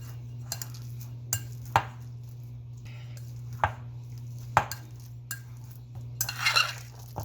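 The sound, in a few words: crushing bananas into a paste for fritters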